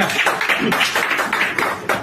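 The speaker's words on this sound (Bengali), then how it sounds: "একবার জোরে হাত তালি।" An audience claps loudly at once, a dense burst of many hands that keeps rattling on in uneven waves across a couple of seconds.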